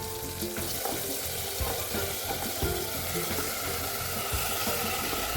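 Onions, tomato and soaked masala frying in a pot for vegetable biryani, giving a steady, loud sizzle with occasional stirring scrapes and clinks throughout.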